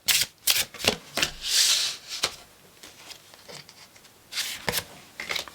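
Tarot cards being shuffled by hand, a run of crisp riffling and sliding bursts with short pauses, close and fairly loud with no talking.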